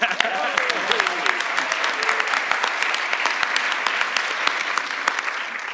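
A crowd applauds at an immigrant naturalization ceremony honoring people from 22 countries, with steady dense clapping throughout and some voices and a brief whistle-like tone mixed in.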